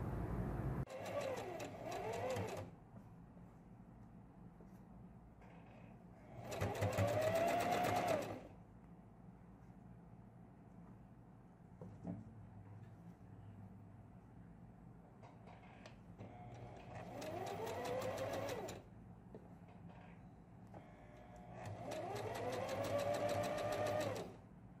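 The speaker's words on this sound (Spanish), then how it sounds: "pasamos costura sin tocar la cinta elástica por todo el contorno de la cintura" A sewing machine stitches around an elastic waistband on a girl's dress, running in several loud whirring bursts with rising and falling motor pitch, separated by quiet pauses with faint handling noise.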